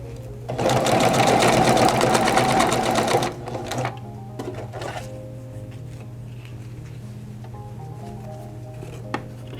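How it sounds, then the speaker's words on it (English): A sewing machine runs fast and steady for about three seconds while stitching pants with an elasticized waist, then stops, leaving a low hum and a few faint handling clicks. "We're ready to sew."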